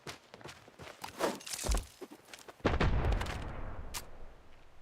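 Grenades explode in the mobile shooter Standoff 2, a burst of heavy thuds and booms with a big blast near the middle followed by a rumbling tail, mixed with scattered footsteps and clatter.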